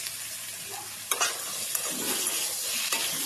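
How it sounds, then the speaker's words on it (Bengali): Spice masala with cumin powder is stirred and fried in a pan, giving a soft sizzle with scraping stirs. The strokes are close and fairly quiet, with no talk. "একটু জিরে গুঁড়ো সব রকম গুঁড়ো মশলা দিয়ে একটু ভালো করে মশলাটাকে কষে নিতে হবে"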